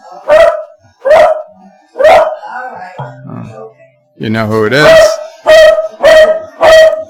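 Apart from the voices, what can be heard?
dog barking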